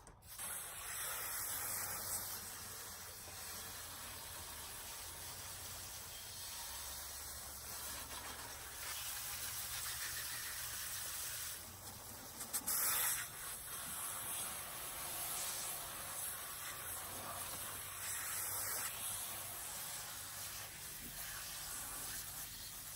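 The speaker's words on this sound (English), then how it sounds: "I'm gonna take my hose again and just go through and just spray everything off" A garden hose sprays water to rinse off a car engine bay, giving a steady, close, continuous hissing spray with slight shifts in intensity and no talking.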